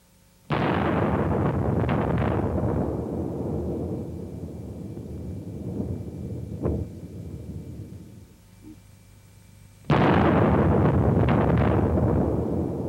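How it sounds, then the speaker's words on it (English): A massive Soviet 50-megaton hydrogen bomb detonation from 1961, a sudden deep roar that rumbles and slowly fades, then a second loud blast surges back in near the end. "The explosion was the equivalent of more than 50 million tons of TNT, more than all the explosives used in World War II."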